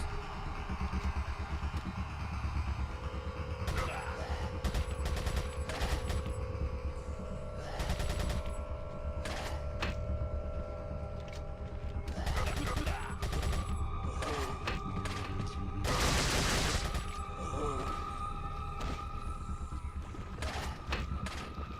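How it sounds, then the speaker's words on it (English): Gunfire and rocket launcher blasts from Resident Evil 4 (2005), with repeated sharp shots and bursts over a constant droning game soundscape, some louder blasts standing out near the end. "Who gave these people rocket launchers? Freaking RPGs."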